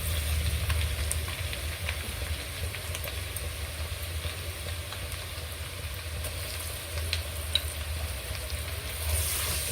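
Ginger-garlic paste fries in a pan with rice, a steady close sizzle and crackle that holds level throughout with no voices.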